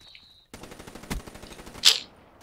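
Automatic gunfire in the video game Call of Duty WWII: a rapid burst of evenly spaced shots lasting about a second and a half, with one louder crack in the middle and a sharp metallic clink near the end.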